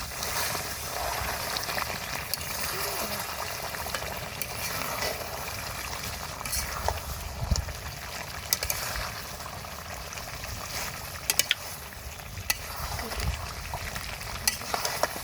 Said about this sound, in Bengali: মাংসটা খুব ভালোভাবে কষে নিছি